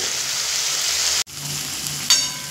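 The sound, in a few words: spices with Kashmiri chilli powder being fried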